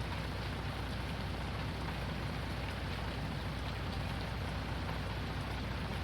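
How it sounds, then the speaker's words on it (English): Steady, heavy warm rain pouring down in Farming Simulator 19, a dense, unbroken hiss of falling water at constant loudness with no other sounds. "Kind of warm rain today. Still 79 degrees outside, and it's coming down pretty good."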